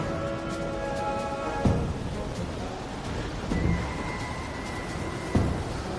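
Steady heavy rain with several deep rumbles of thunder breaking through at intervals, a continuous stormy wash with no voices.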